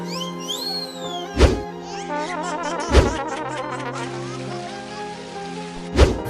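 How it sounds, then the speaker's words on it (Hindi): Cartoon rain effect in a Hindi kids' comedy animation, a steady patter with three loud thunk-like hits spaced a few seconds apart, whistling tones and music-like textures layered over it, no speech. "अरे बाप रे, यहाँ बरसात कैसे हो गई?"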